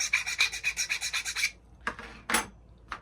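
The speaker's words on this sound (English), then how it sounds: "have to shave a little bit of paint off the bottom" A blade scraping paint off a burr on a plastic RC crawler steering part, about ten quick rhythmic rasping strokes up close, followed after a pause by three short separate scrapes.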